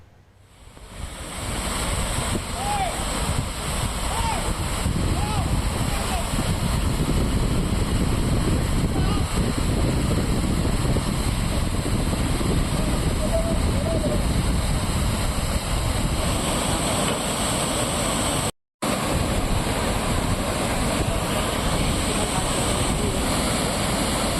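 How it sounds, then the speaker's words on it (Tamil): Floodwater from Puzhal Lake gushes through a surplus canal in Chennai, a loud, continuous roaring rush of turbulent water with wind buffeting the microphone, steady throughout with one brief cut. "உபரி நீர் கால்வாயில் தண்ணீர் பெருக்கெடுத்து ஓடுகிறது"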